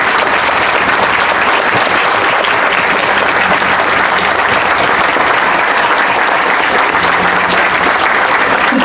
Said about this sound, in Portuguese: É para você esses aplausos.